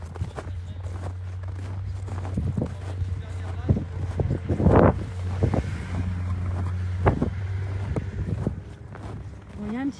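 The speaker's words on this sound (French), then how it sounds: "il y a un petit vent froid" Cold wind rumbles steadily across the microphone outdoors near water, with low broadband buffeting, occasional footsteps and faint voices in the background.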